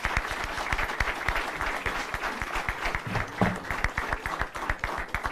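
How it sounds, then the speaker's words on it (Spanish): An auditorium audience at a book presentation gives an author a warm round of applause, dense steady clapping from many hands continuing for several seconds without a break. "Lo recibimos con un fuerte aplauso."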